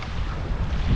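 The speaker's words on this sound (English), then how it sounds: "Wind's picking up." Wind gusting over a mountain lake during a canoe trip, a dense roaring rush buffeting the microphone, loud and unbroken for a brief moment.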